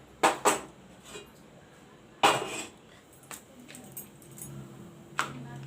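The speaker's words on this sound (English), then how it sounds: "Now I'll put up the pan." A metal pan set down on a kitchen stove, a few sharp clanks and knocks close by, the loudest at the start and middle, with light rattles between in an otherwise quiet room.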